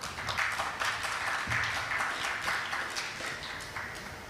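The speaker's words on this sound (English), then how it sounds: "A round of applause." Audience applause at an actuarial congress, a steady wash of clapping from a large conference crowd that holds throughout at moderate level with no talk over it.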